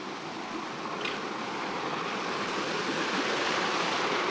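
A steady, dense rush of falling water near Shahapur fort holds a constant, fairly loud level throughout, with a faint wind-like hiss and no speech.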